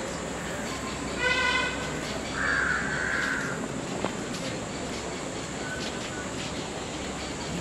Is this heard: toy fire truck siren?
no